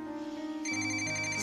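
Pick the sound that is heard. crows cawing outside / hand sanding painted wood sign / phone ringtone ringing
phone ringtone ringing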